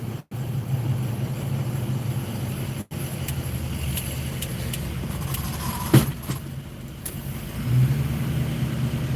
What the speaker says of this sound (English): Pull right into my parking spot here.